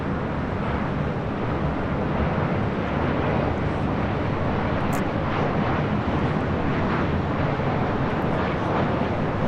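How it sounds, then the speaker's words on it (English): A Southwest Airlines Boeing 737-700 arriving at LAX from Tucson, a constant heavy broadband jet roar close by and loud throughout, with wind buffeting and no talking. "This is Southwest Airlines 2061 coming in from Tucson, Arizona on a 737-700"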